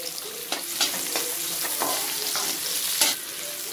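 Onions stir-frying in a pan with chillies and garlic, a steady close sizzle broken by several sharp scraping stirs of the spatula, no voices.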